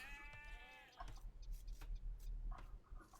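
Sheep in the Age of Empires strategy game bleat once, clear and harmonic, at the start, followed by quieter game ambience with low rumble and faint scattered clicks.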